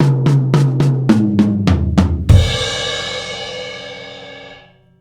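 A drum kit plays a quick sixteenth-note fill on the toms, a run of sharp evenly spaced hits stepping down in pitch, then lands on a loud crash cymbal that rings out and fades.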